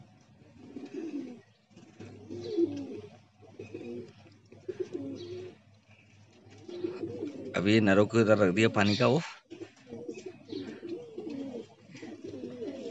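Pigeons coo softly in the background while someone talks nearby, with a brief louder burst of sound in the middle.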